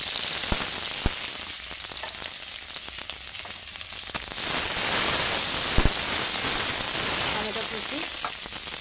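Chopped onions frying in oil in a kadai give a steady, close sizzle, with a few sharp clinks and pops and a louder burst of crackling midway.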